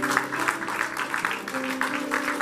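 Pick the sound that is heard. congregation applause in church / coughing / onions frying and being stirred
congregation applause in church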